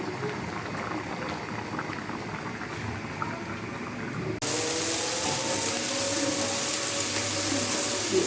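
Water is added to a pot of bottle gourd curry at the end of cooking, heard as a steady hissing, bubbling wash that grows louder and brighter partway through, with no talk.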